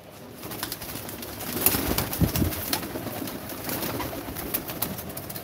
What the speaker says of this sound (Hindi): सोनू वर्मा भाई को दिए हैं कबूतर